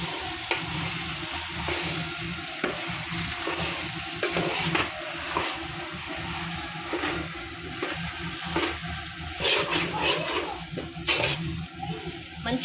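A spoon stirs mashed potatoes into aloo kurma in a pan of hot oil, giving soft scraping strokes over a steady sizzle of frying, with no talk.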